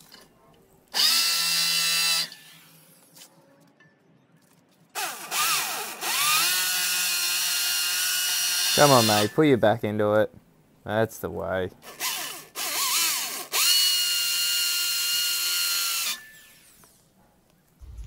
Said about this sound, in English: Had to go get the electric hammer drill.